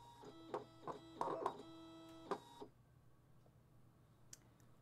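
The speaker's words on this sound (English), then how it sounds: "now I'll load my mat into my machine." A DesignNCut DC200 cutting machine loading a cutting mat gives a few mechanical whirs and clicks with tonal motor whine over about two and a half seconds, then falls quiet apart from a faint tick.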